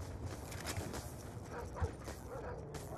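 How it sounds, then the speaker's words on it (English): A dog from a friendly canine unit in the shooter game Black Ops 2 gives a couple of short yips and barks over noisy battle ambience. "Friendly canine unit in your AO."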